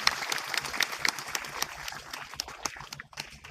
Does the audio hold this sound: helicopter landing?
no